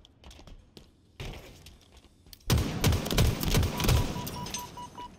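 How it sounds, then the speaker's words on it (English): Gunfire in a first-person shooter video game comes as scattered single shots, then a loud, sustained burst of rapid automatic fire close by with heavy thuds. "Somebody else shooting me, bro?"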